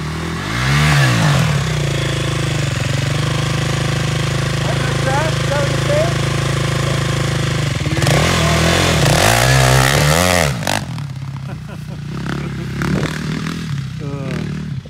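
A KTM quad and a Yamaha dirt bike revving hard for wheelies outdoors, engines rising and falling in pitch close by, with a loud surge near the end before fading to lighter mechanical noise and people talking.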